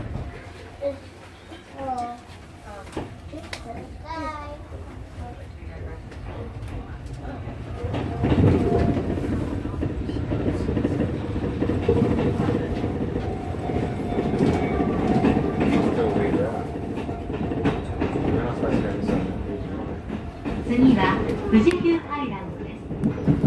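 A train runs on rails in Japan on a line with a stop at Fujikyu Highland, a low rumble and rhythmic clatter of wheels that grows louder midway, with a voice speaking over it at the start and end.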